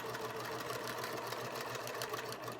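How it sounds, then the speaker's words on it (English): A sewing machine stitches fabric seams for a fabric basket, running at a steady fast rhythmic whir throughout, close and moderately quiet, with no talking. "we're stitching the seams together on the 20-inch side"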